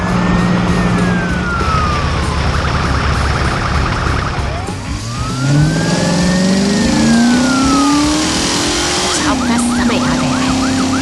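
Cartoon heavy construction vehicles, a blue tractor, excavators and dump trucks, rev their engines in rising and falling whines over a loud, busy sound bed, one engine tone climbing sharply near the end.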